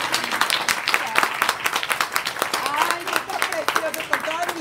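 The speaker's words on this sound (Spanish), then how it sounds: "Vamos a darle un aplauso, pero bien fuerte desde el fondo de su corazón" Applause from a gathered audience at a recognition event in Chicago, steady dense clapping filling the whole stretch, with voices and cheers mixed in.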